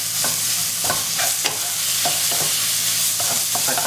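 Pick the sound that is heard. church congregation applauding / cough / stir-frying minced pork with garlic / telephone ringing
stir-frying minced pork with garlic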